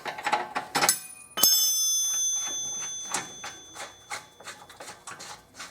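A ratcheting wrench works the nut off a rear shock bolt on a 1984-88 Nissan 300ZX (Z31), giving close, rhythmic metallic clicks with a sharp clank partway through.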